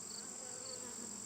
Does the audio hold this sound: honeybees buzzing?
yes